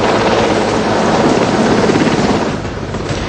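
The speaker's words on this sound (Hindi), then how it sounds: "यहां से मोदी इस हेलीकॉप्टर से INS विक्रमादित्य के लिए निकले।" A helicopter departs for the Indian Navy aircraft carrier INS Vikramaditya with a loud, steady rotor and engine roar that fills the whole stretch and eases slightly near the end, with no talk.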